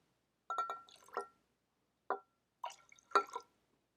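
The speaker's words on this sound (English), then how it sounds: "so I will pour water in" Water poured into a measuring cup while hand sanitizer is mixed, heard as a few short, close splashes and drips with small glassy clinks, separated by silent gaps.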